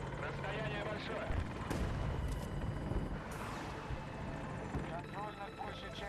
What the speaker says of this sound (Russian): вражеская вертушка!